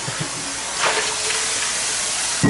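Water rinses out a stainless steel skillet in a short burst of hissing spray that swells partway through, with a sharp clunk at the end.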